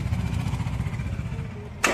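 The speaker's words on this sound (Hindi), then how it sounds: "स्टार्ट हो गई गाड़ी" A Mahindra Scorpio S5 BS6 with a DEF error, its engine churning and cranking in a steady rumble before a sudden loud burst as it catches at the very end.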